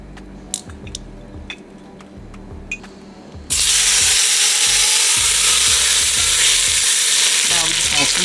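Oil for birria tacos sizzles and spits loudly in a hot pan, a sudden, dense, steady hiss that starts after a few faint clicks and small kitchen knocks.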